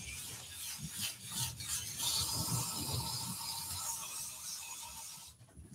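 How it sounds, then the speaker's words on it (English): Sandpaper rasps steadily against a wooden twig bowl set in Ecopoxy, a continuous close scratching that swells and eases with the strokes before dropping off near the end. No one talks. "The timber sands fairly quickly."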